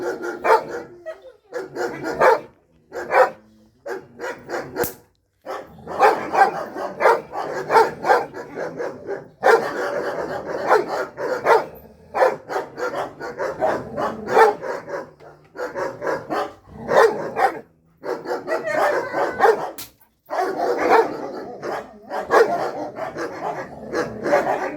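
A dog barks repeatedly in short bursts across a long stretch, fairly close and loud, with brief pauses between volleys, during a training session focused on the dog's attention.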